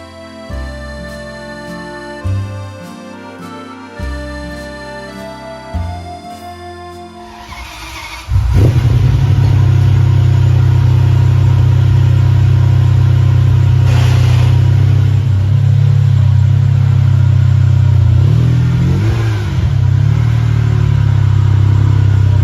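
A Ferrari engine fitted with an ANSA exhaust starts and settles into a loud, deep, steady rumble with brief rev swells, close by, after a few seconds of quieter musical tones.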